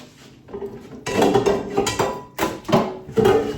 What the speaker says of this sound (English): while he stirred that up